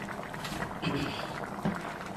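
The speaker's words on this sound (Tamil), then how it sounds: "நல்லா கொதிச்சிருச்சு" A pot of brinjal kara kuzhambu curry bubbling on the stove, with a steady low simmering burble at close range.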